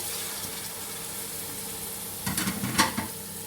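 Tomatoes fry in a pan with onions and garlic-ginger paste, giving a soft, steady sizzling hiss with a few louder stirring scrapes near the end, faint and with no talk over it.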